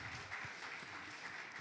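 A church congregation at a Christmas service applauds in a soft, steady patter of many hands, faint and distant, with no voices over it.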